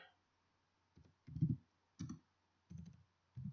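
A computer keyboard in a Linux terminal, with a few soft bursts of key clicks in short clusters, close but faint against near silence.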